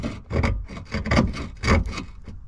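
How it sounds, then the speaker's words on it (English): A scraper rasps loose, flaking paint off the Tridion body panel of a 2008 Smart Fortwo 451 Passion. Close, rough scraping strokes repeat in quick, uneven rhythm. "Initially, I'm going to scrape off any loose or flaking paint."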